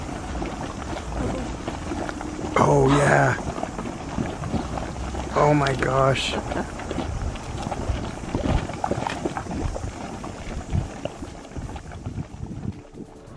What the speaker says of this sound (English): Like bubbling piles of mud.